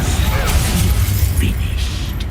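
Confringo and Bombarda spell blasts in the Hogwarts Legacy video game, loud crackling and shattering bursts that run close together over a dense rumbling bed, with a voice calling out over them.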